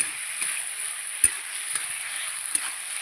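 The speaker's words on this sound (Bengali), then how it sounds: "মাংসটাকে এবার মশলার সঙ্গে ভালো করে সময় নিয়ে কষাবো" Chicken stomach meat sautéing with spices in a pan, a steady soft sizzle throughout with a few faint stirring scrapes and taps, close and moderately quiet, no talking.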